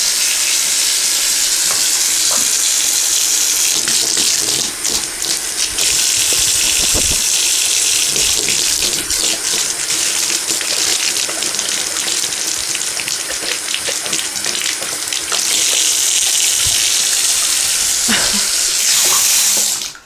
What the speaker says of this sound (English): So I turn on the cold water.